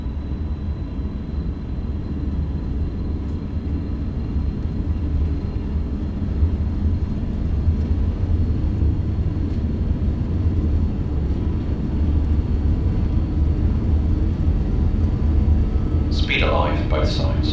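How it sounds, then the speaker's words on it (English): Twin-engine jet rumble from a BAe 146-300 spooling to takeoff thrust in X-Plane 12, a steady, loud low roar filling the whole stretch with a brief higher whine near the end, voices talking over it. "Brake released. Thrust to takeoff."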